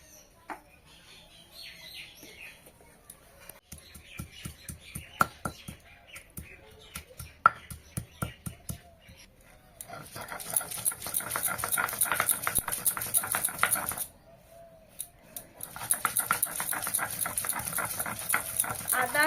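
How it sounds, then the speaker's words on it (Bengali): Ginger and garlic ground together by hand for an egg pepper fry: scattered taps and knocks at first, then long stretches of loud, gritty rhythmic scraping with a brief pause between them, close by. "এখন আমি আদা আর রসুনটা বেটে নেবো"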